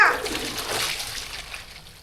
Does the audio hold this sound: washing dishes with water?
yes